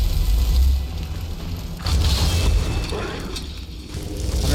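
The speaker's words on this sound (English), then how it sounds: "We're gonna start throwing some bombs like that." Bombs exploding in Skyrim inside Blood Chill Manor, heard as low rumbling booms, one at the start and another near the two-second mark, with crackling debris and a lingering roar between them.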